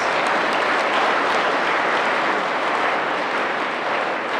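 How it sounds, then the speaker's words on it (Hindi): An audience at a career counselling seminar applauds in a dense, steady wash of clapping that holds at even loudness throughout, with no pause. "Audience, please give them a big round of applause."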